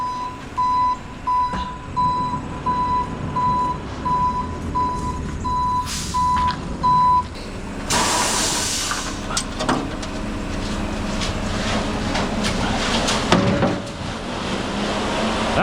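A concrete mixer truck pulls up and backs in while a steady reversing beeper sounds, then a loud hiss of air brakes and the engine rumbling and idling nearby.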